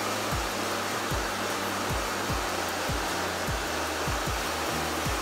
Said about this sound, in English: Guys, you gotta be careful with this hair dryer.